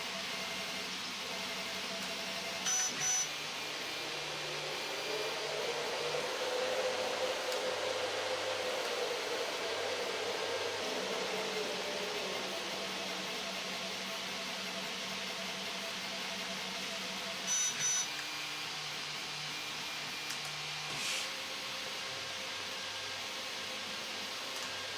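A 3D printer changes its PLA filament, giving a steady whirring hum with a broad fan-like hiss and motor tones that rise and fall, a few short beeps, continuous throughout at moderate loudness.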